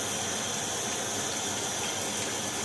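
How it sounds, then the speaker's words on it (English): Hot water rushing from an instant water heater tap, model IWH108, a constant hissing flow from close by without voices. "So this is cold water, the faucet doesn't work, and we turn into the hot water."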